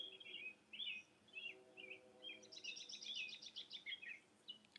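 Mockingbird song: a run of varied, mimicked chirps and whistled phrases in quick succession, moderately close and steady over a low background hum, with no talking.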